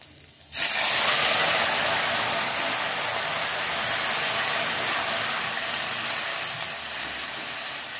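Fish curry poured into a hot pan with slit green chillies sets off a sudden loud, steady hiss that starts half a second in and holds, broad and close, for the rest of the clip before easing slightly near the end.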